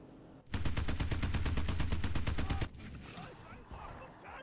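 A War Thunder plane's machine guns fire a rapid, loud, sustained burst of about two seconds, then cut off, leaving faint background noise and a voice.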